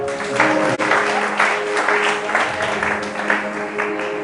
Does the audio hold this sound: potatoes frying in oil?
no